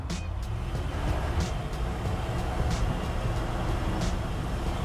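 A 1970 GMC 1500 HD pickup with a V8 accelerates in low gear, a steady rumbling engine drone heard from inside the cab, with faint ticks and rattles over the road noise.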